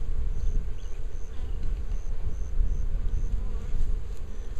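Dense, steady buzzing of many honey bees around an open hive during a spring inspection, loud and close, with a continuous low drone throughout.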